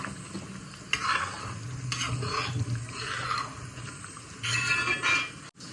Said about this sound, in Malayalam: ആ നല്ല തിളക്കുണ്ട് ഒന്ന് സിമ്മാക്കിയിട്ട് ഇളക്കുക